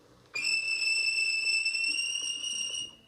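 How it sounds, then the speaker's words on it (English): A railway guard's whistle gives one long, shrill, steady blast that starts abruptly and holds for nearly three seconds, loud and close with little else around it. "The guard blew his whistle,"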